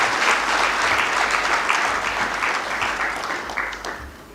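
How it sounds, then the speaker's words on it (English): Steady applause from a conference audience at a regional judiciary symposium in Nairobi after a communique is ratified, many hands clapping densely and loudly, thinning a little toward the end. "A round of applause."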